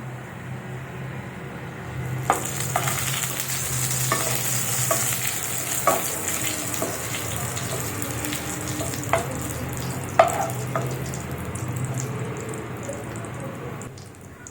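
Whole cumin seeds frying in a pan, a steady close sizzle with occasional scraping stirs and small pops, no talking.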